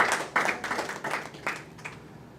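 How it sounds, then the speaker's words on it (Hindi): Audience at a Hindi poetry gathering applauds to welcome a poet, a burst of claps that starts strong, comes in uneven waves and fades over a couple of seconds. "जोरदार तालियों से आप अभिनंदन करें।"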